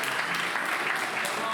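An audience at a French festival applauds its teachers: steady, moderately faint clapping that holds for under two seconds, with a hint of crowd murmur underneath.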